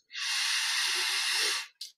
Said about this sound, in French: Une inspiration profonde.